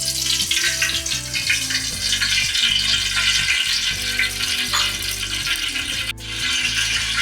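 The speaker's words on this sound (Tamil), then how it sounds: "ஒரு 100 ml அளவுக்கு கடலெண்ணெய் ஊற்றிக்கலாம்." Groundnut oil, about 100 ml, sizzling as it heats in a biryani pot on a stove for prawn biryani, a steady loud frying hiss with soft crackle throughout, over low rhythmic music.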